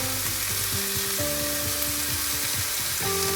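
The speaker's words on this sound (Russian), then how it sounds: "Все это хорошенько перемешаем и жарим до готовности" Steady frying of minced meat with mushrooms and onion in a pan, a continuous close sizzle with faint crackles and occasional stirring scrapes, with no voices.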